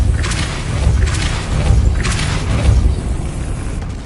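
A Depulso spell cast in Hogwarts Legacy gives a heavy, booming rumble, with three or four whooshing bursts rolling over a steady low roar, loud and continuous with no voice over it.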